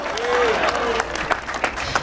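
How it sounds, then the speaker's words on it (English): Crowd applause at a 2012 Selma to Montgomery march gathering as Mary Pat Hector is welcomed, a dense wash of clapping with scattered sharper claps and a voice speaking over it. "please give her a round of applause"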